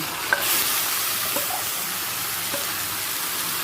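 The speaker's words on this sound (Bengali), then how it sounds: "চিকেনটা পেঁয়াজের সাথে ভালো করে মিশিয়ে নেব" Chicken stirred into frying onions and green chillies in a pan, a loud continuous sizzle with a few scraping stirs.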